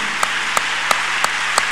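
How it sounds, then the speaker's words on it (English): A church congregation claps in a steady, even rhythm of sharp beats over a continuous wash of applause and crowd noise. "Clap your hands unto God of the chosen."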